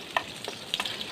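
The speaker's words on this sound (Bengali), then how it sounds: "এরপরে এখন আবার তেল দিয়ে নাড়তেছি" Dried fish is stirred in oil in a frying pan, a close, steady sizzle broken by a few light scraping knocks of the stirring utensil.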